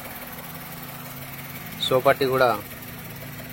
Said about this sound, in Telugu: ఇంజన్ అయితే రన్నింగ్లో ఉంది. ఇంత చాలా సైలెంట్గా ఉంది ఇంజన్ మాత్రం